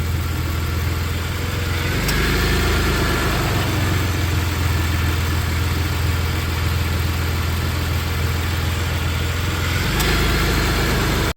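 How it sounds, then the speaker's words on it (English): A 1993 Dodge Caravan's engine idles steadily while its AC compressor clutch cycles on and off, adding a deeper droning load to the running engine twice during the stretch. "There goes Mr. Compressor."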